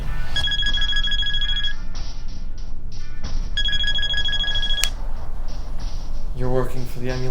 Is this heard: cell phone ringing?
yes